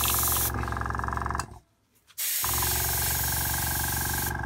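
An airbrush sprays paint with a loud steady hiss for over a second, cuts out briefly during a backdraft bubbling, then resumes its continuous close hiss, all while painting an undead vampire lord on a dragon miniature.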